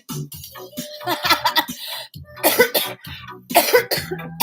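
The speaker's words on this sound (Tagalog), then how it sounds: "pumuputok yung ubo ko yata." Several harsh, raspy coughs come in bursts close to the microphone, with short pauses and throat noises between them.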